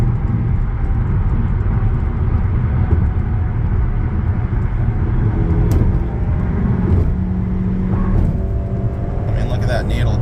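A fast car accelerating in traffic, its engine and road roar loud and continuous from inside, building in pitch toward the end with someone talking over it.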